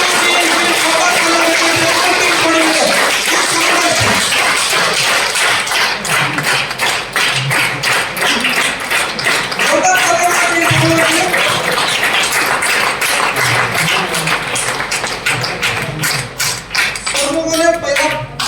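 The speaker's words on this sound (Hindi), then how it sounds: "आप लोग का जोरदार ताली के साथ प्लीज कमेंट में और टीम बड़ी है" An audience in a hall claps for a team, loud dense applause that keeps up for the whole stretch, with a brief pause partway through and scattered voices underneath.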